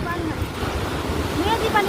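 Sea waves break and wash along the shore where fishermen wade out, a loud continuous roar of surf mixed with wind buffeting the microphone and faint voices.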